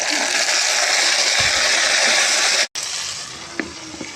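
Browned onions with freshly added tomatoes and green chillies fry in a pan for chicken pulao, giving a steady, watery sizzle. It drops out briefly near the end, then resumes with a few soft stirring knocks.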